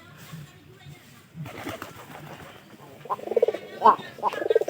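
Pigeons in a pigeon loft, cooing close by in soft, throaty bursts that grow louder and more rhythmic toward the end, with low background murmur.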